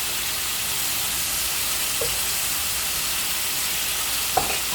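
Spice masala for bata fish frying in a pan, with onion, green chilli, salt and turmeric, a steady loud hiss of sizzling oil throughout with a couple of faint knocks of the spatula, no voices.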